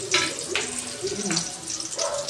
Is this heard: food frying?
yes